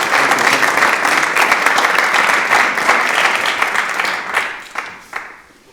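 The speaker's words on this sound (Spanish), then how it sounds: "le damos la bienvenida con un caluroso aplauso" A warm round of applause from an audience welcoming a speaker to a talk on the Basilica of the Holy Sepulchre, loud and dense at first, then thinning to a few scattered claps as it fades.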